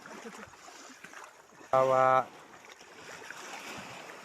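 Lake waves lap softly against a small boat out gathering snails, a faint steady wash of water broken midway by a short, loud electronic tone.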